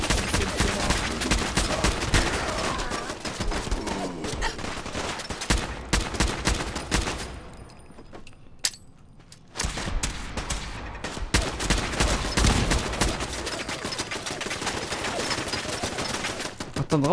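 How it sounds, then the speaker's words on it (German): Rapid cannon and gunfire from the Fallout 4 video game rattle almost nonstop in dense bursts, loud and close, with a brief quieter lull in the middle before the barrage resumes. "Ach, da draußen ist die Kanone."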